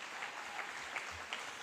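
Audience clapping at a high school fine arts awards ceremony, a steady, moderately distant wash of many hands with a few sharper individual claps, continuing without talk.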